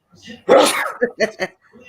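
A single sharp sneeze from a person, close and loud, followed by a few short vocal bursts.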